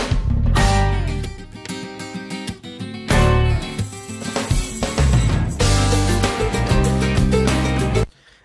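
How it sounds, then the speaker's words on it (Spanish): An unmixed multitrack music recording played back in Pro Tools 12.5, heard as full, loud, dense music with steady instruments and a brief break partway through, ending abruptly. "vamos a escuchar lo que yo tengo o los multitracks que yo tengo que vamos a mezclar"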